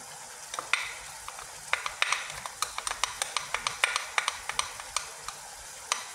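Green chili and chopped ginger sauté in a pan for chicken with coconut milk, giving a soft, close sizzle punctuated by many crisp spoon taps and pops in an uneven rhythm, with no voices.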